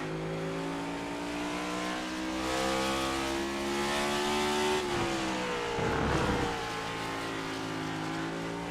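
Onboard engine of the 51 race car in a sim race at COTA, a steady high-pitched drone that rises gradually, dips sharply when the driver lifts for a corner, then climbs again.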